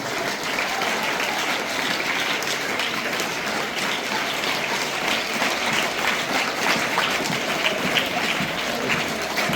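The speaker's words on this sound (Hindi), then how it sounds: "आप जोरदार तालियां करें।" Steady, vigorous applause from a gathered audience at a school society ceremony honouring members, teachers and parents, a continuous wash of many hands clapping with faint voices mixed in.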